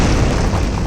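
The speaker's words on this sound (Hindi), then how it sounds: "ऑटोबुका टीवी रिमोट कंट्रोल का बटन दबाता है और एक जोरदार धमाके के साथ" A loud cartoon explosion as a bomb hidden inside a TV set blows a house apart in a comic animation, one sustained broadband boom filling the whole moment with no voices.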